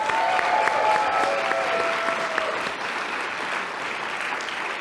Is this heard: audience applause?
yes